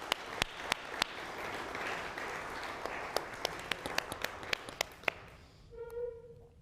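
Scattered audience clapping at a tech ecosystem presentation, a soft crowd patter punctuated by a handful of sharp, isolated claps nearby, fading out toward the end as a short tone sounds.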